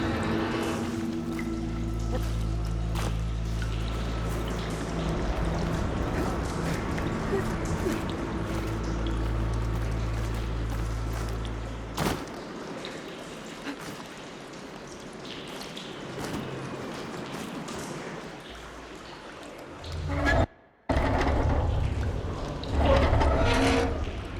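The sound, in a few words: water flowing after valve opens, video game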